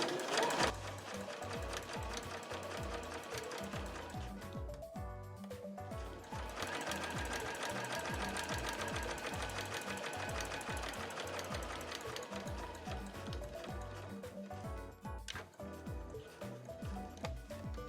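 A home sewing machine stitching a quilted tote bag runs in a fast, steady mechanical chatter, pausing briefly a couple of times before resuming, close and continuous with no speech.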